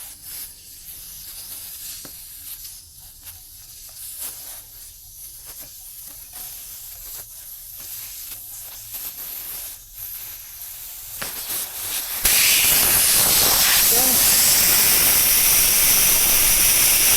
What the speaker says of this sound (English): So I need to take out the valve, get the air out.